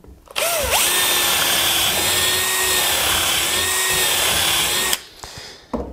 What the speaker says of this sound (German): bohren wir nochmal